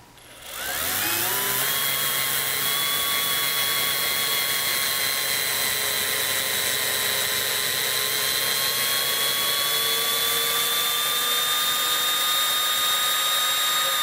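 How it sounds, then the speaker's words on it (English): A power drill set to its slowest, highest-torque speed drives a thread tap through wood, whining steadily and loudly after a quick spin-up, its pitch holding nearly constant throughout. "I have the drill set on number one, slow speed, the most torque"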